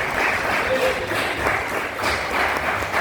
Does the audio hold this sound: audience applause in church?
yes